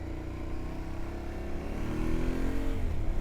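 A car fitted with knobbly tyres passes on the road, its engine drone swelling steadily louder over a few seconds against the continuous rumble of an Aprilia Tuareg 660 motorcycle.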